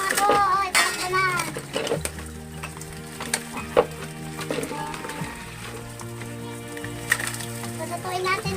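Freshwater crabs sizzling as they are sautéed in a pan for an Ilocano sinangkutsang talangka dish, a constant hiss under clinks of utensils and stirring, with people talking and a radio playing in the background.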